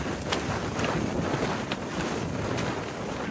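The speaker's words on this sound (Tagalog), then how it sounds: "Ang hangin, ang lakas!" Strong wind roars and buffets the microphone in a continuous rumble, with faint creaks and knocks over the gusts.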